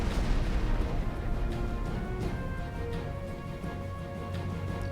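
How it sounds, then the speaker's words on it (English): Warship guns in Battlestations Midway firing an artillery salvo, a dense rumbling barrage of booms and bursts that sustains loudly over a constant low battle roar throughout. "Get ready to fire another salvo."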